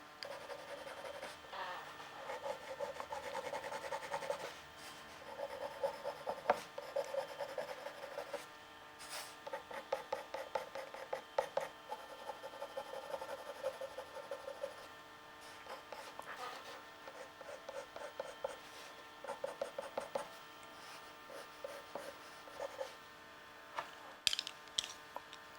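Water-soluble pencil scratching and rubbing across rough paper while a drawing is shaded in brown, with steady, close scraping strokes and a few short pauses, no talking.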